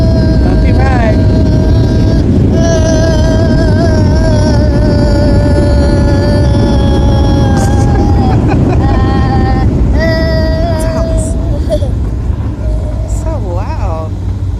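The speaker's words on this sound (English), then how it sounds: "Oh, we're about to land." Loud, steady roar fills the cabin of a Southwest Airlines passenger jet during landing. The broad engine and air rush continues throughout, with a child's and an adult's voices talking over it.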